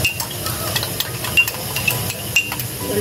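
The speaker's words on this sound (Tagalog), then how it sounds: "I-mix ko yung curry powder and then ibuhos natin dito." Curry powder mixture goes into a hot pan of vegetables for fish curry and is stirred. A steady sizzle continues under repeated scraping strokes and light clinks of the utensil on the pan, close up.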